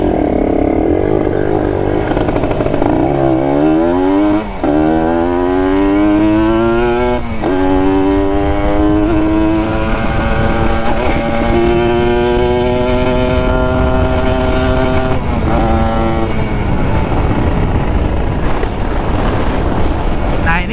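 A motorcycle engine revs up repeatedly as the rider releases the clutch and pulls away, with rising and falling engine pitch under steady wind noise.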